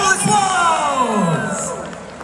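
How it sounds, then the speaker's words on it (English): Convention audience at a Comic Con Scotland panel cheering and whooping with a crowd hubbub, loud and sustained throughout, with strong voices rising above the noise. "big round of applause for Emily"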